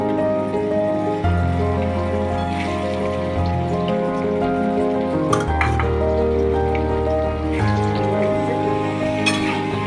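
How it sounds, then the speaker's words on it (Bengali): Taro pieces fry in plenty of hot oil, giving a continuous crackling sizzle like rain on a surface that stays steady throughout, with music playing alongside. "এবার কচুগুলো ভাজবো, বেশি করে তেল দিলাম"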